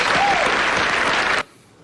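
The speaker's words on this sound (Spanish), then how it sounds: "Un aplauso para él, por favor." Studio audience applause on a Peruvian television talk show, a dense burst of clapping that fills the room loudly and then cuts off abruptly.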